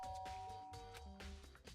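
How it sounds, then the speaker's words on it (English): A doorbell in the video game Danganronpa: Trigger Happy Havoc chimes in a quick series of bright, ringing tones, clear and close with no talk over it. "I pressed the doorbell."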